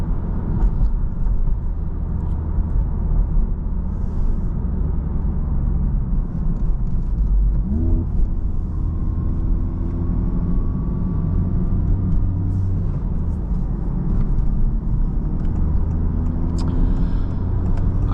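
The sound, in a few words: Honda Civic Type R FL5 engine warming up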